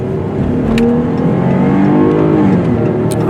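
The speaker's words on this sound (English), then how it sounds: "Let's give it some gas and go." A Chrysler 300C with all-wheel drive revs and accelerates steadily, its pitch climbing as it pulls away, loud and close from inside the car.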